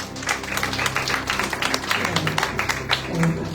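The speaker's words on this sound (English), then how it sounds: "Come on, clap your hands." A church congregation at a Sunday evening retreat in Margao claps hands in a steady, rapid rhythm, moderately loud and diffuse, with singing and voices running underneath.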